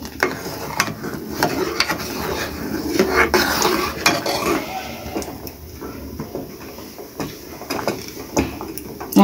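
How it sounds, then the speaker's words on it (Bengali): Milk for fruit custard being stirred in a pot on the stove, with steady scraping and clattering of the spoon against the metal. The sound is close and continuous, with irregular knocks throughout. "এটা নাড়তে হবে, নাড়া দিলে নিচে লেগে যাবে।"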